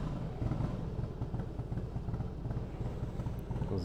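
A Harley-Davidson motorcycle engine idles nearby with a steady low, lumpy rumble and light mechanical clatter, constant and unchanging through the short stretch, with no one talking.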